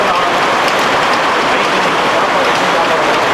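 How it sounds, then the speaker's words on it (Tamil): Dense, constant roar of extremely heavy rain pouring down in Tiruvannamalai, loud and unbroken throughout. "அதனால இவ்வளவு மழை"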